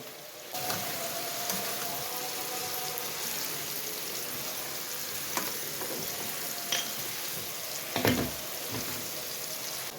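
Tomatoes joining softened chillies and bitter gourd with meat in a frying pan, a soft steady sizzle like light rain, with a sudden burst and a few stirring knocks near the end.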